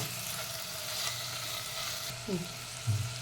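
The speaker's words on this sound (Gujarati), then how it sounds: "મિક્સ કરી દઈશું પાછું ફરી" Potatoes and masala frying in a pan for khichdi, a continuous soft sizzle with short utensil stirs and scrapes toward the end.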